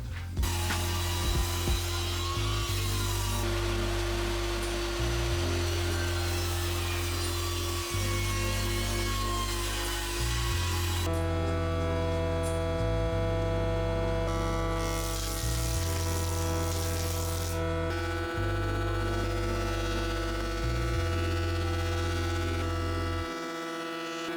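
A saw rips long lengths of proper untreated timber for a potting bench, a loud continuous mechanical drone with a rhythmic pulsing pattern that shifts pitch midway, running throughout without any speech.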